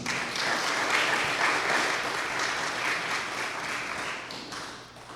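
A church congregation applauds during a sermon on the power of prayer, a dense, sustained wash of clapping over about five seconds that slowly thins toward the end, with no voices over it.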